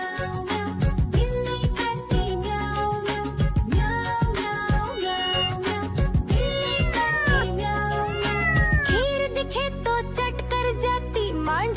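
Repeated meows ring out over bright music in a Hindi children's rhyme about a cat. The calls are loud and rise and fall, in a steady rhythmic pattern that may be a singing voice imitating a cat.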